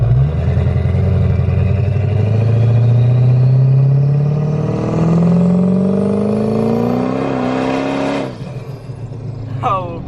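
An 800 hp 6.0 Powerstroke diesel roars loudly at speed, its engine note climbing steadily as it accelerates before easing off with a shift, with wind and road noise throughout.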